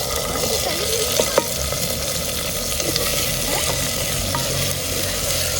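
Chopped tomatoes stirred into browned onions in a hot pan hiss and sizzle steadily, with occasional spoon clicks against the metal, close and continuous.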